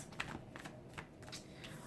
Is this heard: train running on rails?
no